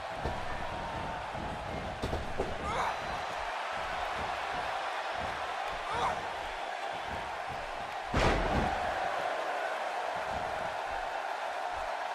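A Birmingham arena crowd in the wrestling game WWE 2K18 roars steadily throughout, a dense wash of noise with a few slams and thuds, swelling louder near the end.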